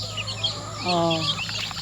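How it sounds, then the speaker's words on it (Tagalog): A chicken clucks and lets out a rising squawk close by, over a steady low hum and background rustle. "Pero ang mga manok na lagi tingog-tingog."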